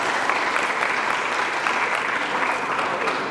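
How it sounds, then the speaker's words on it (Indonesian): Steady, dense applause from an audience at a vocational high school farewell ceremony, continuous and even throughout with no talking over it. "Sekali lagi tepuk tangan semuanya."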